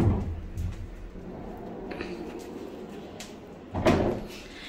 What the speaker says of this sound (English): we have these really nice big barn doors that lead into the bathroom. So we'll open that up.